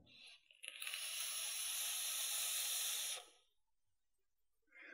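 Exhaled e-liquid vapour from a vape, a soft airy hiss that starts with a short puff, holds as a steady breathy rush for about two and a half seconds, then fades to near silence before another faint breath.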